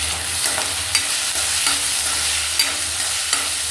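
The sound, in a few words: chopped tomatoes added to a frying pan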